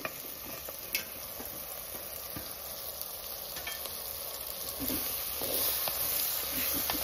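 Cut okra fries in hot oil in a pan, giving a continuous close sizzle with a few sharp ticks and clicks from stirring.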